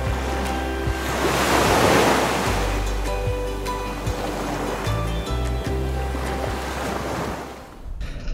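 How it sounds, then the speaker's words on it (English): Ocean waves surge and wash around a Seawind 1370 catamaran sailing out to sea in a fresh breeze, with steady wind noise across the microphone and broad, continuous surf that swells and eases, no voices heard. "There's a pretty fresh breeze going on."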